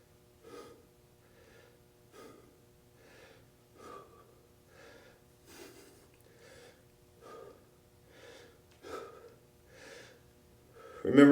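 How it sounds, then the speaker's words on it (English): Rhythmic breathing during an abdominal crunch exercise, about a dozen short, forceful exhales and inhales spaced roughly every three-quarters of a second to a second, close and clear against near silence. "Exhale on the way up, inhale on the way down."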